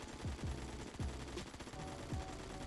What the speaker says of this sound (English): Hip fire, not terrible, kind of all over the place, but it is hip firing.